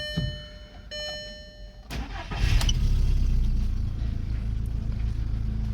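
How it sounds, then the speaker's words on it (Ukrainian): Skoda Octavia engine cranks and catches after two warning chimes, then settles into a steady, close idle rumble that continues to the end. "Все, автомобільчик працює."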